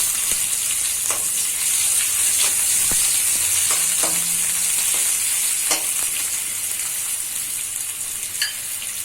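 Chopped onions fry in hot oil with cumin and dried chili, giving a steady close sizzle and crackle, with occasional scrapes and taps of a stirring spoon against the pan.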